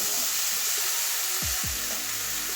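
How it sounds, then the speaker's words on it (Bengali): Vegetables, including potato, carrot and flat beans, sizzle and sauté in a pan with a constant frying hiss, and a couple of brief low clatters partway through. "2 মিনিট ভালো করে কষিয়ে নেব।"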